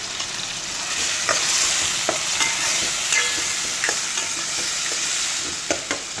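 Tomatoes with salt sizzle and fry in a pan for a Gujarati sev tameta curry, a steady close hiss broken by occasional stirring clicks, with no talking.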